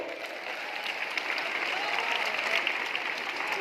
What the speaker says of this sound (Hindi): तो जोरदार तालियां देने की जरूरत है अपने लिए।